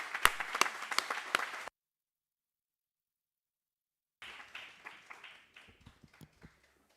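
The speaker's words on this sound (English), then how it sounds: "can we please kindly give a round of applause for the Honorable Ms. Mkhize." A burst of applause from a conference audience, clapping that cuts off abruptly, then after a silence resumes more loosely and tapers off into scattered claps.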